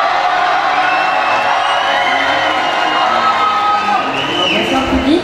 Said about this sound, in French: Applaudissements pour Jo.